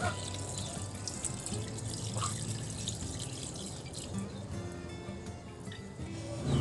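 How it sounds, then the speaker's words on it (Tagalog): Coconut milk pouring into a cooking pot, a steady liquid splash and trickle running throughout at close range with no talking. "Ilagay na natin yung ating kakanggata."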